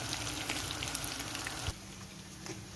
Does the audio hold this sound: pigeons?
no